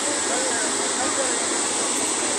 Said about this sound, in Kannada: ಕೋಪವಾಗಿ ಹರಿತಾ ಇದ್ದಾಳೆ ನೋಡಿ ಸರಸ್ವತಿ ನದಿ